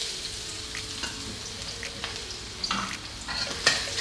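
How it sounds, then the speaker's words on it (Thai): Diced dried shiitake mushrooms fry in hot oil with a steady close sizzle, broken by occasional scrapes and stirring taps, with no voices. "พอน้ำมันร้อนแล้วเราจะใส่ตัวเห็ดหอมแห้งหั่นเต๋าลงไปเจียว"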